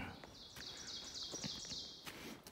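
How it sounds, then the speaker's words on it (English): Birds sing on the Appalachian Trail under a green forest canopy, a steady run of high chirping phrases carrying on with a few faint taps and rustles beneath. "Listen to the birds and everything."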